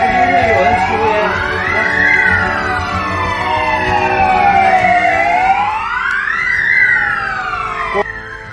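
A quarantine hotel alarm sounding loud and near, a continuous wailing tone that sweeps slowly up and down in long cycles with no pause, ending abruptly.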